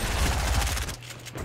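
Fortnite Battle Royale gunfire, a rapid close burst of loud shots in the first second, then a quieter tail with a few fainter cracks.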